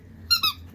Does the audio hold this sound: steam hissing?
no